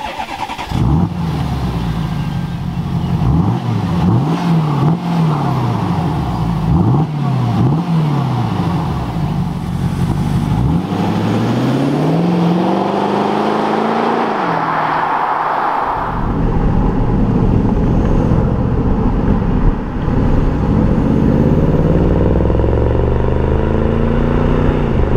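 A Porsche Cayenne S with a 4.2-litre V8 diesel rated at 385 hp starts up and pulls away, its engine note swelling and falling through repeated revs before settling into a steady driving drone, loud and close with no talk.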